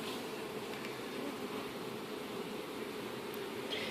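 Honey bees hum continuously during a summer hive inspection, a dense, steady, close swarm drone with no talk over it.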